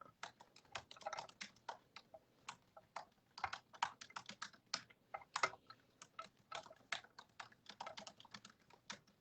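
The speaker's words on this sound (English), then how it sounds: "you were typing away" Rapid, uneven clatter of keys on a computer keyboard, typing close by and fairly quiet in a room with no talking.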